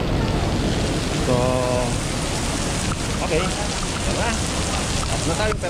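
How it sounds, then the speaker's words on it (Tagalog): Heavy rain pours in a dense, steady hiss throughout at the Geylang Serai wet market in Singapore, with a person speaking briefly over it. "Kita nyo lakas ng ulan"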